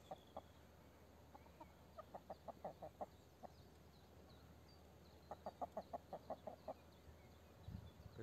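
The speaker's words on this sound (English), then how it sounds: "The other chicken hen, she's a little bit jealous." A hen clucks in quick, soft bursts of short notes, two clusters separated by a pause, faint and fairly close in a quiet outdoor setting.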